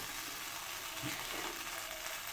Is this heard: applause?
no